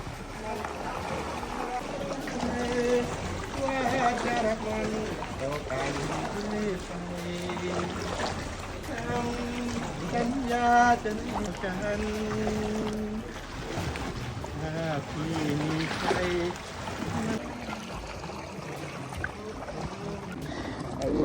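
A tour boat motors across the water near James Bond Island in Phuket, Thailand. A steady engine and water rush run throughout, with people talking loudly over it.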